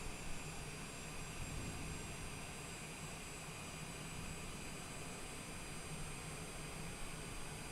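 A simulated aircraft engine in Microsoft Flight Simulator spools up and holds a steady, broadband jet-like roar with a whining high tone, continuous and even for several seconds with no voices.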